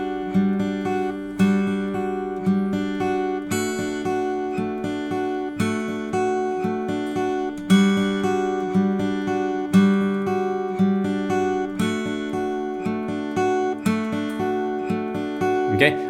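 A clean electric guitar plays the hybrid-picked intro riff of a song, quick plucked notes mixed with chord hits, steady and rhythmic, with no talking.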